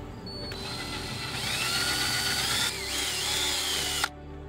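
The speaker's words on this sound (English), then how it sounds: "Now to do this, I am using a 5/16 bit." A power drill with a 5/16 bit whirs steadily for about four seconds, its pitch dipping briefly under load partway through, then cuts off abruptly.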